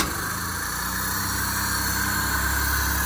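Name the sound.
petrol car engine started and idling after engine fitment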